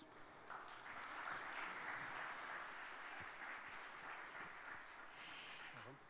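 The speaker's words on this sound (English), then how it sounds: "Ladies and gentlemen, please give them another big round of applause" Applause for three speakers at a UNWTO urban tourism summit, a sustained, even wash of clapping from a large seated audience that holds steady for several seconds, heard at a distance and fairly quiet.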